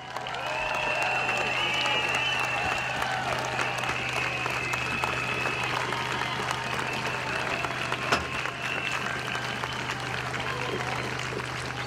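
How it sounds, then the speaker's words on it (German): Steady audience applause at an outdoor protest rally, a dense wash of clapping at moderate distance that holds evenly for several seconds, with a low hum underneath and some voices mixed in. "Seid so lieb, gebt ihm einen großen Applaus"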